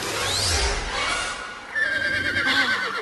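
A horse neighs loudly in a film scene, a long whinny with falling pitch, followed by further layered vocal and musical sounds without speech.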